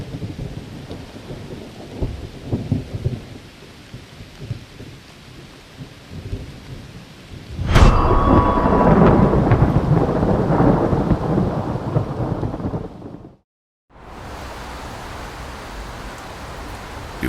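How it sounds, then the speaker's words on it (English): Steady rain hisses and patters on city streets, swelling into a heavier downpour partway through, then cuts off briefly before resuming at a lighter level. "rainy morning in the city"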